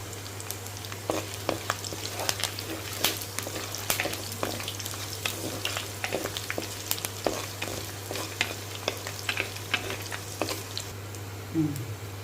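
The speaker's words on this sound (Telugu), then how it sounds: "ఇదిగోండి మసాలా నూనె ఉంచాను కదా, మసాలా వేసుకుంటున్నామండి." Masala spices dropped into hot oil for a fish curry, with a steady fry-sizzle and scattered crackles and pops running throughout, close and moderately loud, with no voices.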